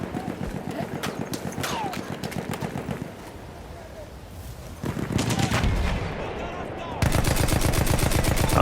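Mounted turret machine gun hammering out long bursts in Battlefield 1, a World War I shooter video game, steady rapid reports that pause briefly and then return louder and closer.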